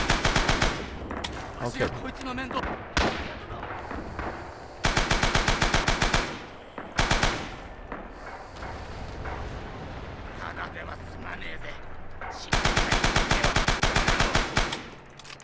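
Bursts of machine gun fire from the video game Rising Storm, loud repeated rapid volleys with other gunfire and battle noise in between, while someone talks over the action.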